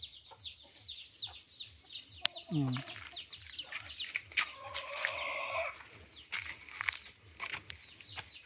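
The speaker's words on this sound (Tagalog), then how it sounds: "May mga manok din dito." Chickens cluck and squawk nearby in quick, irregular bursts, with a louder flurry of calls partway through over a quiet outdoor background.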